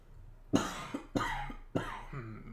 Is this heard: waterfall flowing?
no